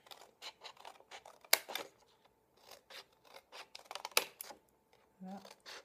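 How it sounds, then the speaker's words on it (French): Repeated short snipping and rustling of unsuitable scissors working through paper for a gift bag, close by, in uneven bursts with brief pauses and a quiet voice near the end. "Je n'ai pas les ciseaux adéquats, donc c'est un petit peu chiant."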